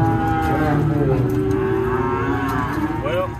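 A six-year-old cow at a cattle auction, near the catwalk where purchased cattle wait to load, gives a long, loud, continuous low moo lasting several seconds, alone without talk.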